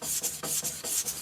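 Rhythmic back-and-forth blade strokes on a vitrified sintered diamond whetstone while flattening a bevel, with the blade tilted back to work the rear area. About five close, steady rasping strokes in quick succession, alone without talk.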